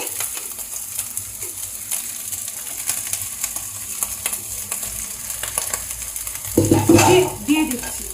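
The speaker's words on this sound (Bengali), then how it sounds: "দিয়ে তরকারিগুলো সব দিয়ে নেড়ে এবার আমি ভাতগুলো" Rice and vegetables being stir-fried in hot oil with ginger, a steady low sizzle under scraping stirs, swelling into a louder burst of frying and clatter near the end.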